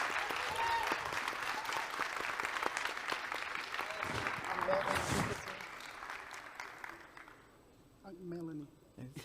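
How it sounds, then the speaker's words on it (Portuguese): An audience at a culinary trends event bursts into sustained applause that fades out toward the end, followed by a voice speaking briefly. "uma salva de palmas"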